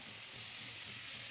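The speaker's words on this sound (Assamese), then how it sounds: "এতিয়া এইখিনি প্ৰথমতে ভাজি ল'ব" Food frying in a pan in a home kitchen, a steady, soft, broadband sizzle and hiss that holds even throughout, fairly quiet, with no voices.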